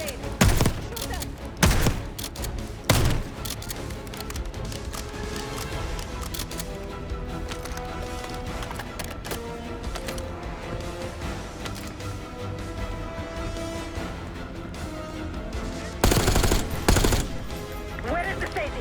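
Call of Duty Black Ops 6 street firefight with sustained automatic gunfire and bursts of shots, a dense, loud din punctuated by heavy blasts near the start and end, with voices shouting over the combat.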